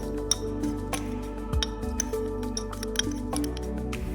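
A spoon stirs a wet spice marinade of Kashmiri red chili powder and chili oil in a bowl, giving close, steady squelching and soft clinks against the bowl for a few seconds.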